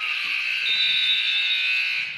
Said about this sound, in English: the buzzer rings at the end of the third period